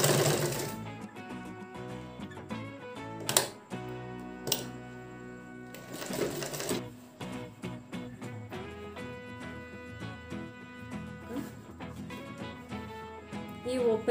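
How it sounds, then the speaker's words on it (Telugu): Sewing machine stitching the sides of a cloth face mask, a fast mechanical rattling run with brief pauses and restarts, close and fairly loud. "కట్ చేసుకున్న తర్వాత ఈ 3 సైడ్స్ అనేది మనం ఫస్ట్ స్టిచ్చింగ్ చేసుకోవాలి"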